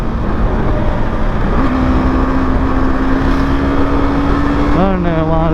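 A KTM Duke 250 motorcycle engine drones loudly and steadily with a rising tone, then shifts in pitch near the end as it pulls on, heard up close over heavy wind rush.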